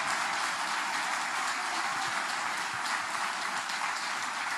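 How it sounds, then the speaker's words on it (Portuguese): A church audience gives a sustained round of applause for Jesus during a service, thick continuous clapping holding at a steady, fairly loud level throughout. "Tem alguém para dar uma salva de palmas para Jesus aí?"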